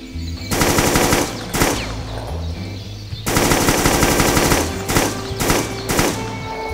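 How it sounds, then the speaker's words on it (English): An RPD machine gun fires in a Doom mod video game in loud, rapid bursts of several seconds each, separated by short pauses. "What's next? The RPD machine gun."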